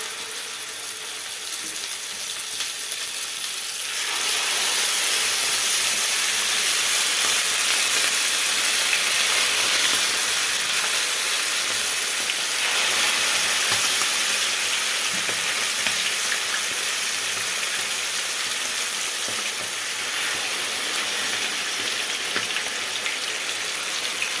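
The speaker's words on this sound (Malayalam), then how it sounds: "നമുക്ക് ഓയിലൊക്കെ ഒഴിച്ചു കൊടുത്ത് ഫ്രൈ ചെയ്യാം" Food frying in hot oil in a pan, a loud continuous sizzle and hiss close up that swells sharply after a quieter start and stays steady to the end, with no voices.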